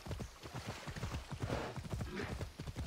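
A horse gallops in Assassin's Creed Odyssey, a quick steady rhythm of hoofbeats pounding close and clear for a few seconds with faint background ambience.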